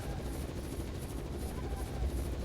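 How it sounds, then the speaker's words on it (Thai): A rescue helicopter in the video game Raw Danger drones with a steady low rotor rumble, sustained and moderately loud throughout. "เฮ้ยเสียงเฮลิคอปเตอร์ เฮลิคอปเตอร์กู้ภัยใช่ไหม"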